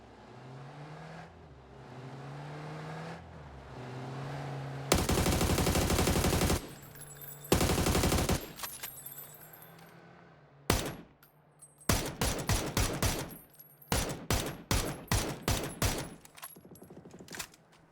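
Automatic gunfire in PUBG: bursts of rapid shots crackle loudly between pauses, with a vehicle engine humming low underneath the shooting.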